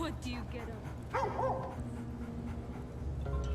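Game dog in Baldur's Gate 3 yipping and whimpering, with short whiny cries over a steady background of game ambience and music.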